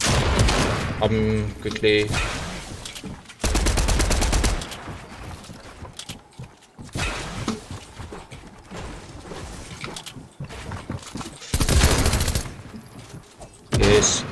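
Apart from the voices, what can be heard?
SMG gunfire in a video game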